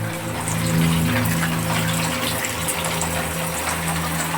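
Continuous gushing and trickling water in a forest, steady and fairly loud with no pauses, filling the scene without speech.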